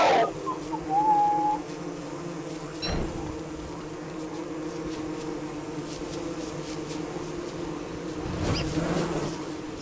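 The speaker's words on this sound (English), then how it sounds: "Because now I'm going to light the angry bees on fire." A sustained drone of angry bees buzzing in the video game Don't Starve Together, steady and moderately loud throughout, broken by a couple of sharp clicks and a short whistle-like tone near the start.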